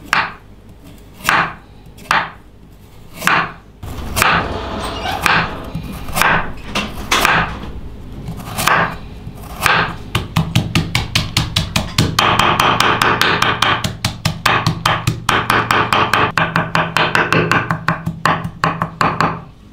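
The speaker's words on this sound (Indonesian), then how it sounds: "Satu buah wortel ukuran besar, potong tipis-tipis dulu." A knife chops a large carrot thinly on a board, starting with a few loud, separate thuds and then speeding into fast, even rhythmic chopping, close and sharp, with no voices.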